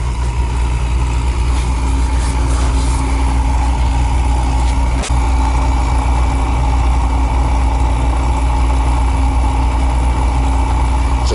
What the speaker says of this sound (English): That's a big motor.